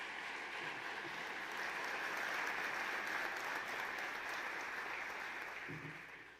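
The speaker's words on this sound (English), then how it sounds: "Let's give them all a round of applause." A State of the City crowd applauds the governor, senators and a congressman with a long, full round of clapping that swells, holds steady, then begins to fade near the end, with no speech over it.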